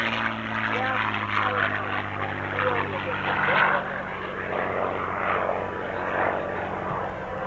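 An aerobatic propeller airplane maneuvers at a 1995 air show in Clark County, Indiana, its engine droning continuously with a rising and falling roar at a distance, while a commentator talks over it.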